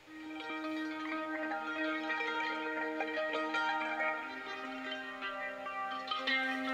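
Main synth patch from a Kontakt library, the lead sound of a song, playing alone as a sustained, shimmering bell-like tone with layered harmonics and soft melodic note changes throughout.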